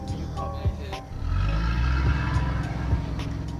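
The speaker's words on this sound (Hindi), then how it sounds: "आवाज बहुत कर रहा है गाड़ी यार" A car engine in the horror video game Fears to Fathom drones and rumbles steadily, building up as it revs, with a few clicks and thumps on top.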